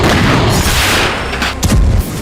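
A blast from a Russian IRBM missile strike on Ukraine rumbles as a loud, dense wall of booming noise, with a sharper thud near the end.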